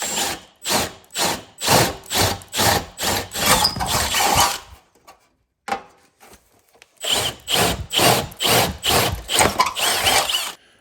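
Rhythmic bursts of a power drill boring holes into wood for nutserts, repeated in quick pulses, a short pause, then another run of drilling, loud and close.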